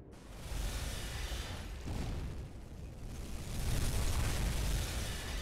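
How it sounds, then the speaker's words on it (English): Deep rumbling explosions heard from inside a submarine in the game UBOAT, a continuous low, muffled roar that swells and fades, with no speech. "You can hear the explosions."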